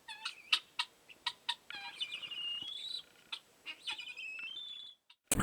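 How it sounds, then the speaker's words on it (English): Guinea fowl call in a rapid run of sharp, harsh, high chirps that break into longer rasping notes, loud and near. No voices are heard, and the calling stops abruptly near the end. "Guineas are really strange,"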